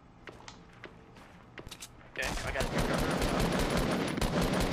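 Rapid bursts of video game gunfire, a few scattered shots at first and then a sustained, loud barrage of automatic fire filling the second half, with a player talking over the action.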